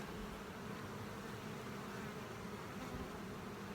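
Honeybees at an open hive frame of fresh wax comb give off a steady, dense buzzing hum that stays even and close throughout, with no voices.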